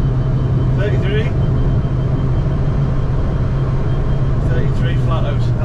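A Citroen Ami electric car driving flat out, with a steady loud road and cabin rumble and a constant low hum throughout, and a voice faintly over it.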